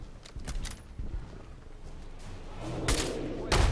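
Several sharp gunshots in Fallout 4 combat, a few early cracks, then two louder close shots near the end over a murky background of game noise.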